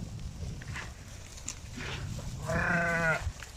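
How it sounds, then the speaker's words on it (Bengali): A dumba fat-tailed sheep in the Saudi Arabian desert lets out one wavering bleat late on, over faint outdoor rustling and shuffling. "এই দেখেন সৌদি আরবের দুম্বা"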